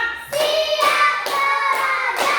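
Children in a classroom clapping together on a count, several bright group claps at an even pace with faint voices underneath.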